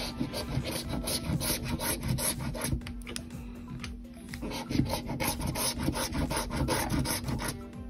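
A coin scratches off a Wheel of Fortune scratch-off lottery ticket, a rapid run of rough rasping strokes close up, steady and fairly loud throughout, with no speech.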